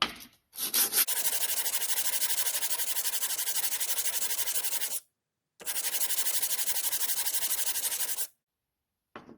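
Honda N600 brake pads rubbed on sandpaper by hand, two long runs of fast, even back-and-forth scraping, loud and close, separated by a short pause and ending in silence.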